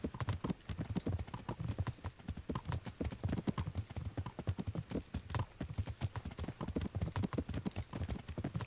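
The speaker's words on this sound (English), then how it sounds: "Get out of the way, horse." Horse hooves clip-clopping in the medieval video game Kingdom Come: Deliverance, a steady walking rhythm of distinct close hoofbeats continuing throughout at moderate volume.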